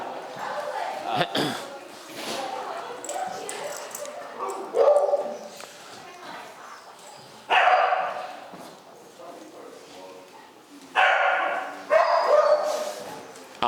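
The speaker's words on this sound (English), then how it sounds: "this is really good, interesting dog communication here happening" A fearful, aggressive mastiff barks in short bursts with whimpers in between, the loudest barks landing in a few separate spells over steady people talking nearby.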